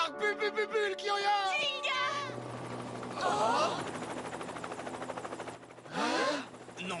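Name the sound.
helicopter flying overhead, in anime episode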